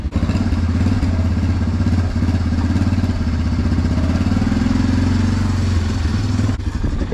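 A four-wheeler ATV engine running steadily outdoors in the rain, a close, loud, even rumble that holds for several seconds before a brief thump near the end.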